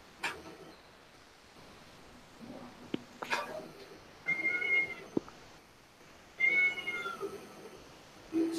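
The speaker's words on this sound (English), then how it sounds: "Oh, I hear a cat yelling." A cat meows in several drawn-out, whiny calls spaced a few seconds apart, close by in a quiet room, with small thumps and clicks in between.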